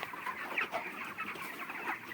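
Broiler chickens, forty days old, clucking softly on a poultry farm, a dense overlapping chorus of short clucks and murmurs at moderate distance with no talk.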